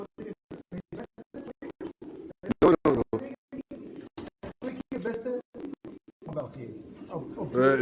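Racing pigeons coo in short repeated bursts close by, mixed with scratchy shuffling, while someone talks over them throughout.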